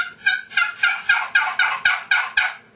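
A run of about nine rhythmic turkey clucks and purrs, evenly spaced and fairly loud, made on a hand call with no other sound.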